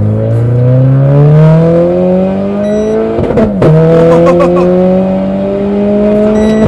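A Renault Clio 4 RS Trophy engine revs hard while driving and climbs in pitch, drops briefly as it shifts, then pulls up again, loud and close.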